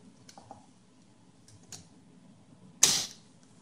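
A 3.5-inch SATA hard drive slides into an Icy Dock TurboSwap MB171SP-B tray-less mobile rack, giving faint clicks and creaks before a sharp, louder mechanical clunk as the arm pushes it home.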